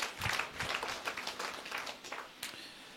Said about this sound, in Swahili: Pigie Yesu makofi mengi mengi.